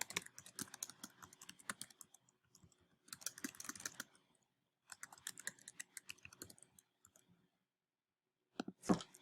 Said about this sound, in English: actually typing a document.